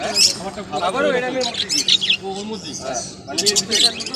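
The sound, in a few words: budgerigars chirping at a pet market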